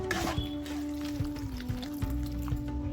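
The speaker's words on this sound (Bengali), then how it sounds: "এর মধ্যে সামান্য জল দিয়ে দেব" A small splash of water pours into a pan of spiced dried peas cooking for ghugni, a close trickling stream over a low sizzle with a steady background hum.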